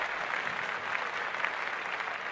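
Steady applause from a podcast studio crowd, a dense, even patter of clapping hands holding level throughout with no talk over it.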